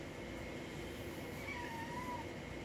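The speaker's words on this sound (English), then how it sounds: "Why are you meowing in the middle of the video?" A single drawn-out cat meow, fairly faint, rises over a steady low rumbling background.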